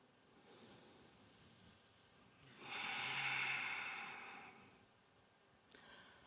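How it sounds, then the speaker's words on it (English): A person draws one deep breath in through the nose or mouth: a broad, airy rush lasting about two seconds, close and fairly loud, with a fainter breath before it and a short click near the end. "let's take a breath first"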